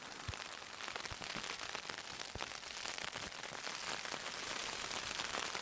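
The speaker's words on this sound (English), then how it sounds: "Good timing for the rain." Steady rain patters outdoors in the Scottish wilderness as a soft, even hiss with occasional distinct drops, no voices, fairly faint throughout.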